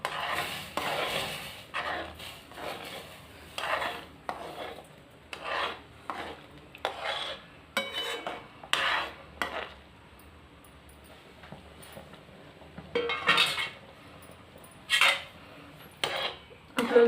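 Semolina being stirred into boiling liquid flavoured with cardamom in a pot, heard as a series of rhythmic scraping and rasping strokes of a spoon against the pot, close and fairly quiet, with brief pauses between bursts.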